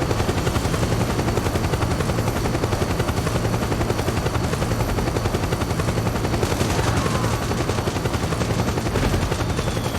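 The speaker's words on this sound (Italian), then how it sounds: "sto proprio sotto l'elicottero" A helicopter hovers directly overhead in Metal Gear Solid 4: Guns of the Patriots on PS3, a loud, dense rotor chop that stays constant throughout with a rumbling undertone.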